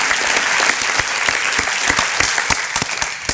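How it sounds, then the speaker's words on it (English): A breakfast audience claps steadily and warmly, a dense, close wave of applause that keeps going throughout without fading. "I think that deserves an applause."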